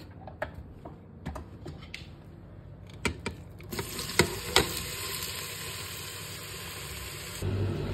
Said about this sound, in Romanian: Vom pune ceapa la călit.